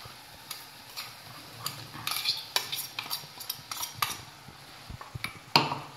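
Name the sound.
stirring masala paste into the curry in a pan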